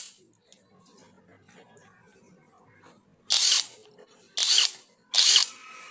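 Three loud, sharp bursts from a Reaim cordless impact wrench in continuous mode, each about half a second long, come in quick succession after a quiet stretch of faint background noise.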